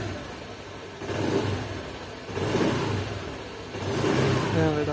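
A Honda Click v2 scooter engine, just fitted with a new fuel filter, runs steadily and is revved in three swells of throttle, each rise louder than the idle between them, close and alone with no talk.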